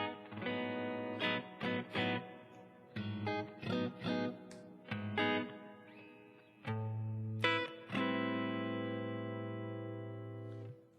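Electric guitar through a Blackstar HT-5 valve amp on its clean channel with added reverb, playing sustained chords and short picked phrases with a faint edge of grit, close and alone with no talk.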